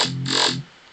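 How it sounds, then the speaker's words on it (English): A filtered growl bass synth note with a vowel-like, throaty tone sustains loudly for about half a second, its upper sweep shifting mid-note, then cuts off to near silence. "So that's where the main vowel growly sound comes from"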